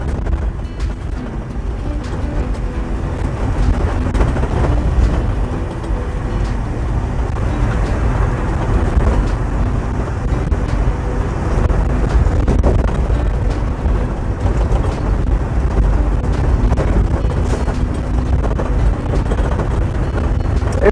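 A 2011 Freightliner Cascadia truck cab rolling along a winding road, with a steady loud low rumble of engine and road noise throughout and no talking.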